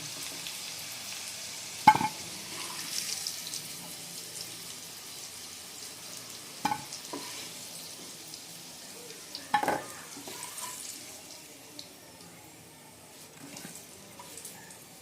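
Steady sizzling of potatoes frying in oil, with a few louder clatters of stirring at intervals; no talking.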